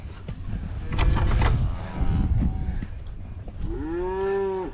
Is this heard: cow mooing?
yes